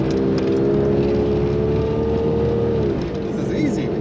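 A Jeep Cherokee XJ engine drones steadily and close during off-road driving, its pitch holding and then falling as it downshifts, with a voice talking over the engine.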